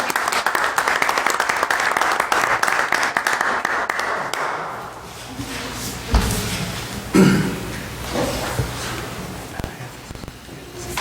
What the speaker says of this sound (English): a round of applause for those guys for putting up with all this stuff